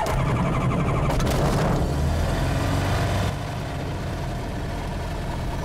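Experimental light aircraft engine on a runway at Nogales, a loud, steady engine drone with a burst of rising noise around the start, then settling into an even idle, with no talk.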